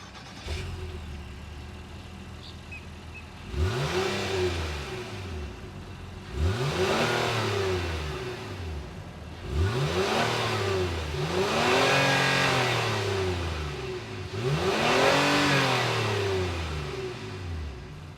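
A 2025 Honda Ridgeline Sport's 3.5-liter naturally aspirated V6 with dual exhaust tips is revved four times, each sharp rise and fall in pitch separated by a calm idle, heard alone with no talking.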